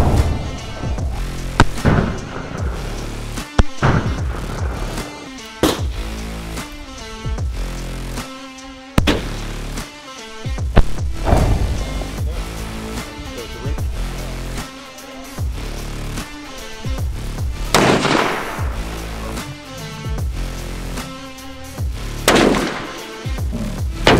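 Repeated booming shots from a CVA Endura muzzleloader rifle ring out over roughly twenty seconds, each a sharp loud blast with a rolling echo, spaced irregularly and heard alone.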